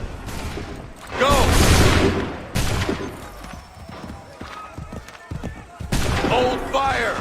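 Volleys of musket fire crackle in loud bursts during the defense of Lexington in Assassin's Creed 3, mixed with horse whinnies and clattering, while voices shout commands between the salvos.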